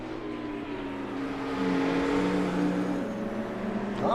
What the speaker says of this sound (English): Sam's just drifting it around the track.